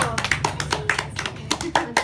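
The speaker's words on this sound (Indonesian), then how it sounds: "Bagus pertanyaan, tepuk tangan dulu." Hands clapping in a school anti-corruption outreach session, a sparse irregular run of sharp, close claps from a small group, with voices mixed in underneath.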